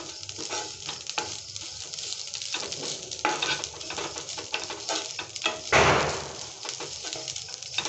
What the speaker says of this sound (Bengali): যতক্ষণ না নারকেলটা একটু ব্রাউন ব্রাউন কালার হচ্ছে তখন ভাজতে হবে।